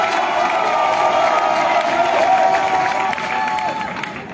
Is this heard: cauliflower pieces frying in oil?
no